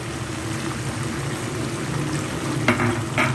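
Bell peppers and onion frying on a medium flame in a pan for dry chili chicken, a steady low crackling sizzle close by with a couple of brief louder hisses near the end.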